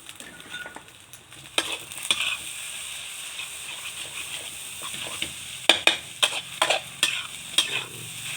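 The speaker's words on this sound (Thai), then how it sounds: "ผัดไปเรื่อยๆจ้ะ" Fried rice with naem fermented pork is stir-fried in a pan, with a soft, steady sizzle beneath repeated scraping and clinking strokes of the spatula. The strokes grow louder and more frequent toward the end.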